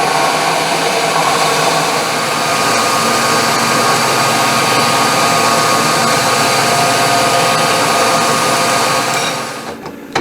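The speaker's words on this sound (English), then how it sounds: "I'm going to mill a 3/8 slot in this 1/2 by 1/2 and go 3/16 deep" A milling machine cutting a 3/8-inch slot 3/16 deep in 1/2 by 1/2 steel bar: a loud, steady, whining machine drone with a constant grinding hiss that runs unbroken, then winds down near the end.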